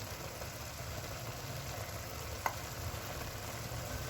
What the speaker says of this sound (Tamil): இப்போ இதை நல்லா மிக்ஸ் பண்ணி விடுவோம் மிளகாத்தூள் மஞ்சள் தூளில் பச்சை வாசம் போகிற வரைக்கும் நல்லா அவிஞ்சு வரட்டும்